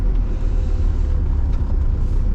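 Engine of a 1979 Mercedes 300 diesel coupe while downshifting, a steady loud low-pitched drone with rough diesel rumble heard from inside the car, with no talking.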